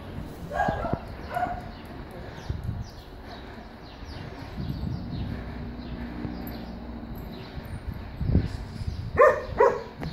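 A dog barks in short bursts and yips amid a person talking nearby, with some faint background chirps.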